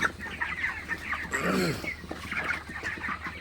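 Broiler chickens cluck on a farm during hot weather, the birds showing signs of a cold, many overlapping clucks and calls forming a busy, steady flock chatter.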